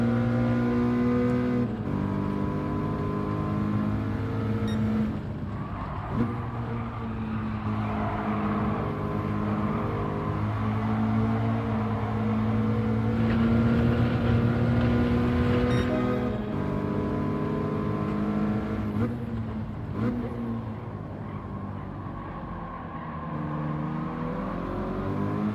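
Toyota 86 race car engine in Gran Turismo 7 at Tsukuba, a steady droning whine that rises and falls through gear changes, loud and continuous with no talk, other cars faintly around it.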